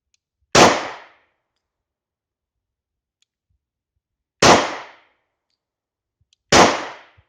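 Three sharp, loud gunshots from a German P.08 Luger pistol ring out at an uneven pace, each a sudden crack with a short decaying tail, separated by seconds of silence.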